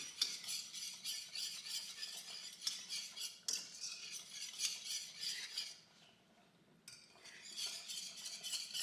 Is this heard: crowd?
no